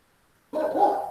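A single short dog bark bursts out of near silence indoors, close and fairly loud, trailing off into a brief whine.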